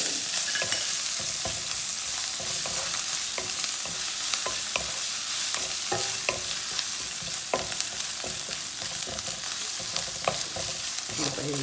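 Ginger paste fries in a pan for a paneer methi curry, a close, steady sizzle under frequent clinking and scraping stirs that continue throughout, with no talking.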